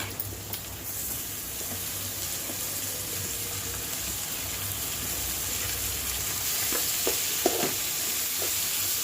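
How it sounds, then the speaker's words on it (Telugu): Thin cucumber slices fry and are stirred in a pan with onions and green chillies, giving a steady close sizzle with occasional scraping clinks of a spoon, no talking. "ఇప్పుడు సన్నగా తరిగి పెట్టుకున్న దోసకాయ ముక్కల్ని వేసేసుకుందాము."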